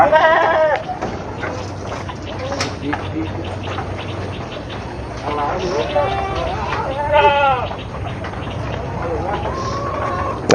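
Goats bleat repeatedly and loudly at close range as they are let out into a pasture plot on a goat farm, with people talking and a low hum underneath.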